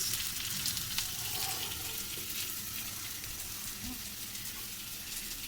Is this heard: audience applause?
no